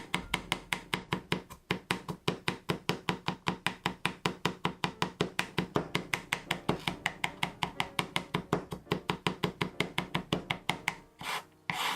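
Garlic being minced with a knife on a cutting board, a fast, steady run of crisp chopping strikes repeating throughout, close and loud, with no talking.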